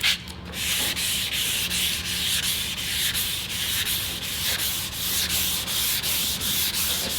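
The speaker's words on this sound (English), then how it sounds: "When you block with 400 and then go to 600, there's not really any sand scratches you have to pull out." Block sanding a painted panel by hand with 400 and then 600 grit sandpaper, heard as a steady, close rasping rub with regular back-and-forth strokes roughly every third of a second, continuous and alone.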